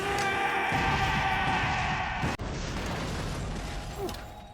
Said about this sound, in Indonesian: sehingga ledakan kini tak bisa dihindarkan lagi